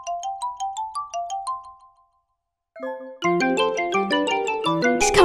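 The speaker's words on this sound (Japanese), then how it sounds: "これ電話がかかってくる音ですよ皆さん。" A LINE phone call ringtone rebuilt from Super Mario Maker note blocks: a bright, chiming melody loops alone, pauses briefly, then returns in fuller layered chords.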